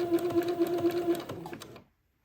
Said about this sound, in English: just keep the gathered lace butted up next to the entredot and zigzag the two of them